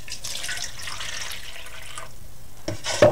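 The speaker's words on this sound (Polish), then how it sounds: "oraz wlewam wodę" Water runs steadily from a tap for a couple of seconds into a bowl of yeast and sugar, then cuts off, followed by a few close splashes and clinks.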